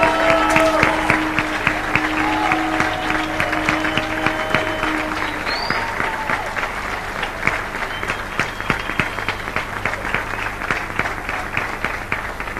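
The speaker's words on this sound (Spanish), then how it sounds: "Dale un fuerte aplauso a Cristo." Congregation in an Argentine church breaks into loud, sustained applause praising Christ, many hands clapping steadily with some crowd voices and a tone fading early on.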